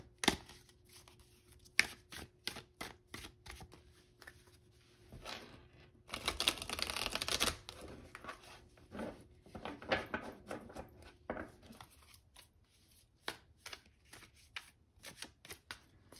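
Tarot cards are riffled and flicked repeatedly in quick crisp bursts, with a longer rustling shuffle midway, close up and quiet, no voices.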